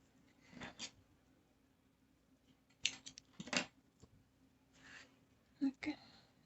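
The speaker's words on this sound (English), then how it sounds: "I'm gonna cut the rope yet." Scissors snip through crochet rope in a few short, separate crisp cuts spaced over several seconds, close and fairly quiet.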